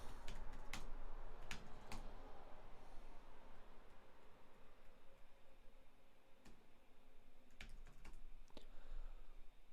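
Computer keyboard typing at a desk during a bash scripting session, scattered bursts of crisp key clicks with pauses between, fairly close and steady over a faint background hum.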